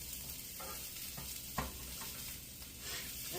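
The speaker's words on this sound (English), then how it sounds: "Stir it up as I go. Make it brown." Food stirred as it browns in a frying pan, with a steady sizzle throughout and a few soft scraping strokes of the utensil, fairly close and with no talking.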